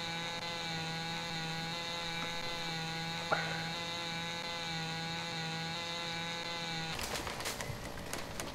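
A chainsaw in the Lumberjack's Dynasty game drones with a steady, buzzing engine tone while cutting trees, then breaks into rougher, crackling cutting noise near the end.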